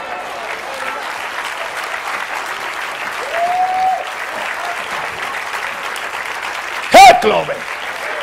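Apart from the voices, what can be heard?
congregation applause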